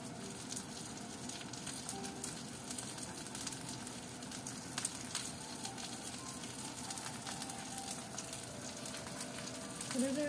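Pork glazed with miso jam sizzles steadily in a frying pan, a constant close crackle and hiss with small pops that runs evenly from start to finish.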